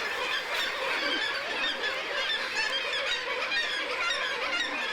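A dense colony of Arctic seabirds, guillemot chicks among them, calls from crowded cliff ledges: a steady, loud overlapping chorus of squealing, honking cries with no pauses.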